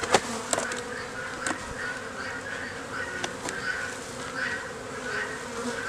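Honeybees shaken into a small tub for a varroa mite test buzz loudly and continuously up close, a dense droning swarm with a few sharp knocks and clatters from the container.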